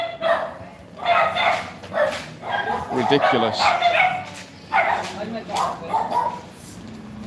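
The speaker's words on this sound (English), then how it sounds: "Oh God, we've got the dogs now as well." Several Scottish Terriers bark and yip in repeated bursts, close and loud, mixed with someone talking over them.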